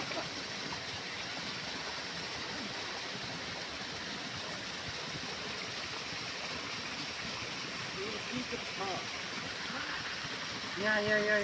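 Stream water in Mugu flows in a steady, soft rushing wash that continues throughout. A voice is briefly heard near the end.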